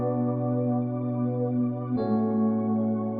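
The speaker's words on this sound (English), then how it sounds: "I'm going to duplicate this pattern and layer it with the pad." Synth pattern layered with the Feel It pad from NI Luxa, sustained smooth tones holding steady with a chord change about halfway through, clean and alone.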